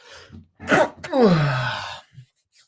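A single loud, close sneeze with a sharp intake and a drawn-out, moaning release, followed by a short breath.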